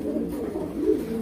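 A pigeon coos close by in soft, low, rolling murmurs that run steadily through the moment, with no voices present.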